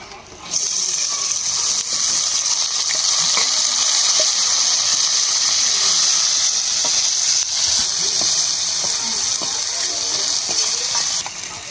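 Chopped onion hits hot oil in a wok just after fried fish is lifted out, bursting into a loud, steady, bright sizzle that holds evenly for about eleven seconds with faint clinks of stirring.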